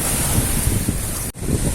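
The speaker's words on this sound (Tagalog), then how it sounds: "Mahangin pa rin ngayon. Napakahangin pa rin ngayon." Strong wind roaring across the microphone at the seashore, with surf rumbling underneath in a constant loud buffeting.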